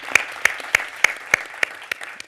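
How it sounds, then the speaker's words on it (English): Slow, evenly spaced hand claps, about eight sharp close claps at a measured rhythm, from a small podcast audience or hosts giving a round of applause. "Let's give them a round of applause."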